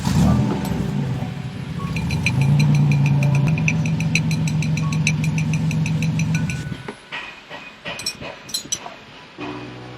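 A car with a faulty engine is started again and idles roughly with a steady rattling, knocking hum for several seconds before cutting off, leaving quieter shop background sounds.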